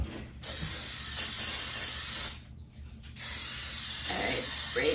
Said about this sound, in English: All right, spray pan.